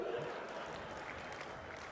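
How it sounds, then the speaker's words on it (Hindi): An audience claps faintly and thinly at a live comedy or poetry performance, a soft patter of applause with some murmuring voices underneath. "तालियां कमजोर है"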